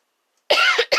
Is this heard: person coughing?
yes